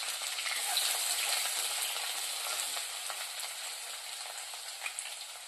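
Onion, dried chili, ginger and garlic frying in a pan give off a steady, bright, hissing sizzle, close and even, with a faint clink near the end and no talking.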